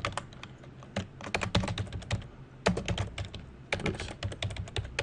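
Quick, uneven typing on a computer keyboard while an email address is entered into cooking software, with close, crisp key clicks in bursts and short pauses.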